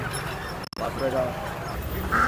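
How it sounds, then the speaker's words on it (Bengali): Chinese ducks quack at a busy outdoor poultry and fish market, their calls mixed into steady crowd noise with people talking nearby throughout. "এই চীনা হাঁস"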